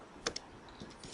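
A few quick clicks of computer keyboard keys, faint and close, two sharp taps followed by softer keystrokes in a quiet room.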